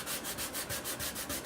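Steady rhythmic sanding of wood on a soprano ukulele build, a rough scratchy rubbing repeating back and forth about every fifth of a second, close and continuous.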